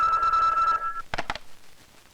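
An old-style telephone bell rings steadily for under a second, then a couple of short clicks follow as the receiver is picked up, close and fairly loud.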